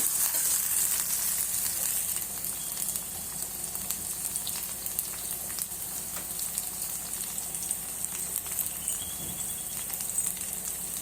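Cassava with curry leaves frying and being stirred in a pan, a steady close crackling sizzle with occasional scraping stir sounds, continuous and alone.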